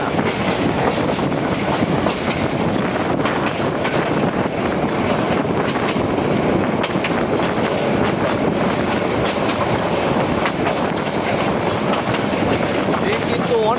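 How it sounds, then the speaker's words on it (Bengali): The Tista Express runs along the railway track with a loud, continuous rumble and rhythmic clickety-clack of the wheels, heard close up from on board. "এখানকার ট্র্যাক সাউন্ড কিন্তু অন্যরকম"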